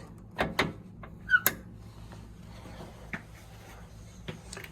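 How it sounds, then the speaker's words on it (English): A hotel room door's latch lock being worked: a few sharp metallic clicks and clunks close by, then quieter knocks against a low room hum, with no speech. "Your latch lock."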